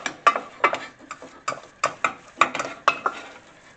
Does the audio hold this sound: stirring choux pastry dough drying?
yes